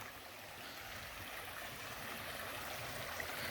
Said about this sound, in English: It's a little bit bigger than the Beach Creek.